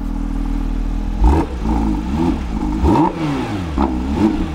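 A Porsche 911 GT3 RS engine revs sharply three times over a steady idle, each blip rising and falling quickly, close and loud with no talking.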